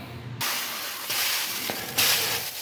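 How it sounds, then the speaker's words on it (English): Water beads hiss and sizzle on a hot 12-inch skillet, broadband bursts of steamy crackle that rise in waves, close and fairly soft, with no voices. "There's still a little sizzle, but the beads are doing what they're supposed to."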